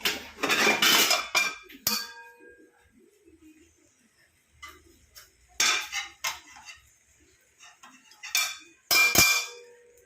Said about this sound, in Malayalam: ഇത് നമുക്ക് മൂടി വെച്ച് കൊടുക്കാം, വേവട്ടെ.